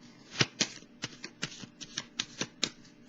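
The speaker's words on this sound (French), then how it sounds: "Je vais piger une carte pour déposer sur celle-ci" Soft, close taps and slides of tarot cards being drawn and laid down on top of one another, a quick irregular series of light papery clicks over a quiet room.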